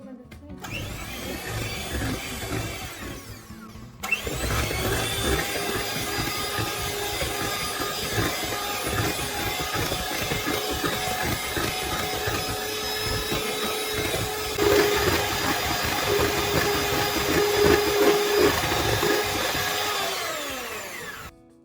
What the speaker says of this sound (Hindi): अब बीटर की मदद से मिक्स करना है। बैटर स्मूथ होने तक इसे मिक्स करते रहना है।